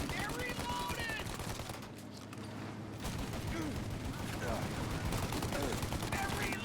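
Dense gunfire from Mafia: Definitive Edition rattles almost continuously through the scene, with repeated shots layered over game ambience and a brief lull near the middle, while voices talk over the shooting.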